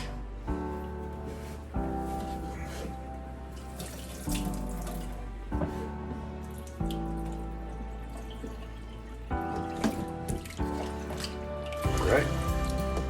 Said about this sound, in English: I'll pour a little out of there so I don't spill in the fridge